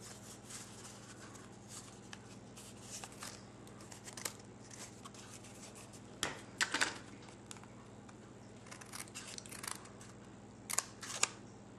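Scissors cut a paper boot template, heard as quiet sparse snips and rustles that come in short clusters, closer and sharper near the middle and the end, over a low room hum.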